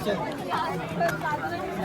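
A crowd chatters at Jejuri temple on a busy Sunday, many overlapping voices forming a steady, close babble for a couple of seconds.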